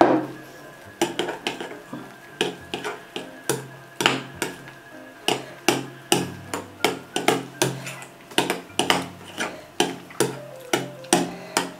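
Spoon or whisk clinking steadily against a bowl while whipped cream is folded together with dulce de leche, sharp rhythmic taps about one per half second, close and clear with no talking.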